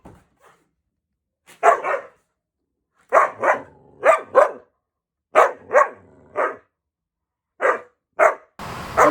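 A Belgian Malinois barks in sharp, separate single and double barks with short silences between, loud and close, in a fairly quiet indoor space.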